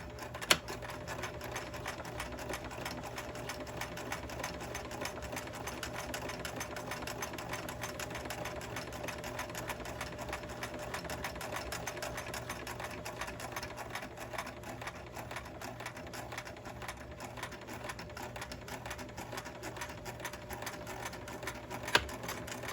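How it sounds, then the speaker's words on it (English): A sewing machine runs steadily for over twenty seconds, stitching a seam close to the fabric edge with a short back stitch, giving a continuous close mechanical whir with a faint click at each end. "Very close to the edge, I'm going to give it a little back stitch."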